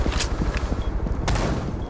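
Shotgun blasts tear through a pillar in the tactical shooter game Rainbow Six Siege, a couple of loud, sharp booms over a constant rumble of game noise and debris.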